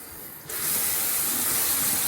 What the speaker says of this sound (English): I'm going to add the same amount of water as I have pigment there.